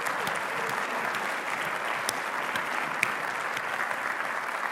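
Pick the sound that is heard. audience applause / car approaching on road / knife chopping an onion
audience applause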